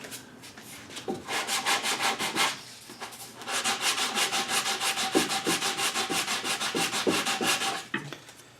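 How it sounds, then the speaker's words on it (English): Sandpaper rubs rhythmically over a curved wooden coffee table part in quick back-and-forth strokes, a close, raspy scratching with short pauses between bursts. "Sandpaper sits right on that curve really well."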